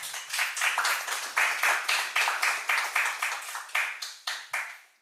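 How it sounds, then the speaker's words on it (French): An audience claps steadily for about five seconds at a ceremony honouring a humanitarian medal recipient, a dense, even applause close by with no voices over it. "C'est Soraya qu'on applaudit"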